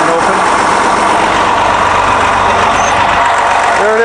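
A Detroit DD13 diesel engine idles steadily in a 2014 MCI J4500 highway coach with the engine compartment open, giving a loud, continuous low rumble with a constant clatter throughout.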